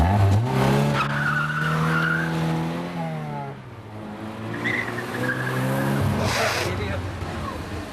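A car skids with a long tire squeal and engine roar, nearly colliding with a red Renault Fuego, the screech rising and falling twice over several seconds with a voice speaking beneath it.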